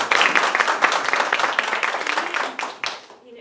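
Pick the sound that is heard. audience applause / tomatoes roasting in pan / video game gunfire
audience applause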